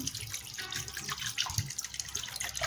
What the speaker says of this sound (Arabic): الحين هنبدأ ان احنا نحط مية ساقعة من الحنفية عشان تبرد اسرع